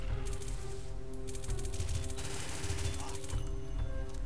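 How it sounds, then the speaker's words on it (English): Rapid automatic gunfire from the video game Tactical Ops rattles over steady background music for a few seconds, with a constant level throughout. "I could only hear like the gunshots."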